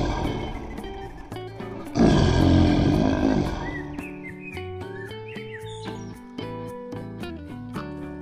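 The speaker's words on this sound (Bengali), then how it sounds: "আর তাদের অভিভাবক ও নেতা সিংহরাজ" A cartoon lion lets out one deep, rumbling roar lasting about two seconds, followed by light bird chirps and a cheerful musical backing.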